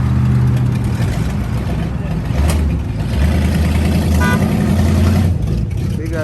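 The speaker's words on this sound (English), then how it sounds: "What is that, a Buick Oldsmobile? It sound good." Old-school Buick or Oldsmobile car engine rumbling steadily nearby, a deep continuous low throb that swells and fades over several seconds, with outdoor street noise around and people talking faintly.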